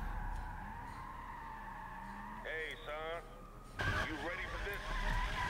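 A Nissan Silvia drifting in Need for Speed 2015, its engine droning steadily before wavering tire squeals and skids rise and fall across the second half, loud and close.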